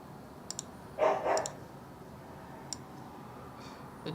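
A dog gives two quick barks in close succession, moderately loud over a hissy room background, with a few small sharp clicks before and after.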